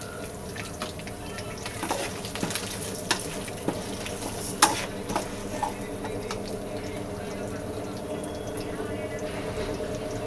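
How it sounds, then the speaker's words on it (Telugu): Urad dal fries in hot oil in a pan while being browned for a drumstick leaf powder, a steady sizzle with occasional sharp pops and scraping stirs, close. "ఇది మంచి రంగులో వచ్చేదాకా వేపుకుందాం."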